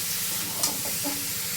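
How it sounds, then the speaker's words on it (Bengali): Potatoes sautéing with spices in a pan for an aloo dum curry, a steady loud sizzle with soft scraping stirs throughout. "মশলার সঙ্গে একটু কষিয়ে নিই"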